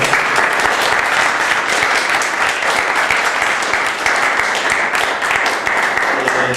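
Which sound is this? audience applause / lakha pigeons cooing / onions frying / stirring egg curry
audience applause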